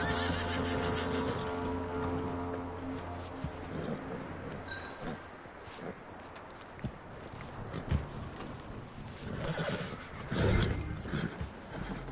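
A horse in the video game Red Dead Redemption 2 whinnies loudly near the start, then shuffling hooves and movement follow, with another snort and stamp toward the end.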